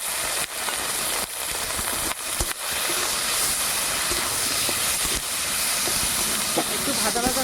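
Chopped tomato with bay leaves, dried chillies and ginger-cumin paste fries in a pan, making a loud, steady, close hiss with scattered clicks.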